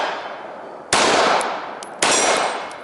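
Two sharp, loud gunshots about a second apart from a shooting range, each a broadband crack with a clanging, ringing decay, like rounds striking steel targets; no talk.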